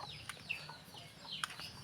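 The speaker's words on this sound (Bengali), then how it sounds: "দেরি বদমাইশ করে মুরগিগুলো উঠতে চায় না" Hens clucking softly at dawn, a few short faint clucks and chirps scattered over quiet background hiss.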